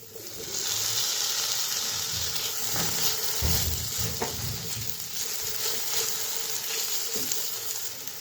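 Tomato tipped into a pan of frying spices and cashews, giving a loud, steady sizzle with stirring scrapes and a burst of spitting when it lands.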